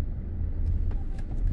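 Suspension of a 2019 Honda Civic Sport CVT thumps softly over a speed bump amid a steady low road rumble inside the car. A few faint, short knocks are spread across the moment, muted and close, with no talk.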